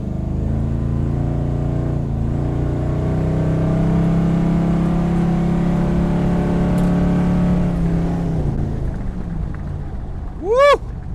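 A car engine revving under acceleration on a dusty surface, a loud sustained drone that climbs in pitch, then tapers off. A sharp rising whoop rises at the end.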